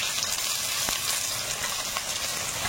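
Chopped onion, whole cumin and green chilli fry in oil in a wok, with a constant close hiss and crackle and a few faint clicks of stirring.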